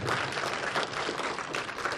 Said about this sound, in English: Can we have another round of applause for the Sayyids